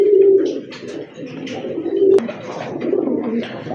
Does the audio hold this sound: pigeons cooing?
yes